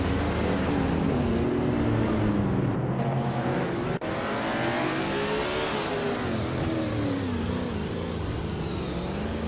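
Race cars overtaking during a race roar continuously at close range. Their engines rise and fall in overlapping revving sweeps, and one sharp click cuts through the drone midway.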